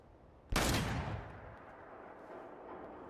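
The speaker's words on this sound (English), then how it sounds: "It's gonna be loud. It's a shotgun." A single loud shotgun blast in Fallout 4 hits hard and close, then a long fading boom rolls away into low ambient noise, with no voices over it.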